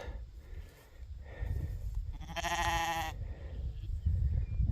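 Sheep and newborn lambs out in the rain give one clear, drawn-out bleat close by, set against a steady wash of rain and wind noise.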